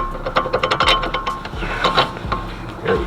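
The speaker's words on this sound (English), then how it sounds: "What I need to do now is jack this up some." A mechanical car jack works under a 2006 Dodge Charger during a front coilover install, giving a close, rhythmic run of ratcheting clicks and creaks.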